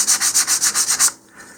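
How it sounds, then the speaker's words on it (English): A plain wooden sanding block rubs along the root edge of a model rocket fin in eight quick, even back-and-forth strokes, close and crisp, then stops. "I'm just using a simple block of wood here as a sanding block"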